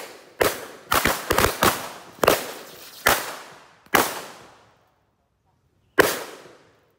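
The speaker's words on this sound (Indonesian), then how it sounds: "Mercon KTP Corsair bajak laut warna hitam merah." Corsair pirate firecrackers, black and red, go off in the ground outdoors as a run of sharp, loud bangs in quick succession, followed by one more isolated blast after a brief silence.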